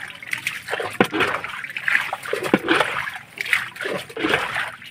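Water bailed out of a boat: repeated splashes and sloshing, scooped and tossed in an irregular rhythm, close by, with soft trickling between throws.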